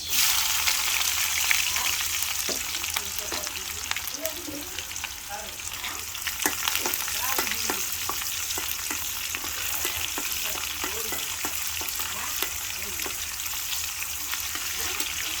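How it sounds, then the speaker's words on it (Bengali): Vegetables with garlic and raw onion fry on a clay stove while being stirred, a loud sustained sizzle broken by repeated spatula scrapes and clatters, close up throughout. "এগুলোকে নাড়াচাড়া করা হচ্ছে"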